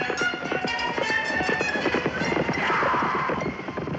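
Hooves of a wild horse being chased and captured drum rapidly on the ground in a steady galloping rhythm, fairly close and continuous, with a brief whinny-like tone near the end.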